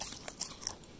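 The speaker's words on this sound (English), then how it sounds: "If you hear chewing noises, that's my dog chewing grass right in the microphone." A dog chewing grass right against an outdoor microphone during a tree and headstand yoga tutorial, giving a few quick, close crunching bites in a brief burst.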